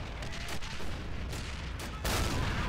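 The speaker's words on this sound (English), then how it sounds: "A little nade spam never hurt nobody." Grenade explosions in a realism-modded war video game, several loud booms and cracks with one heavy blast near the end, over a dense background of battle noise.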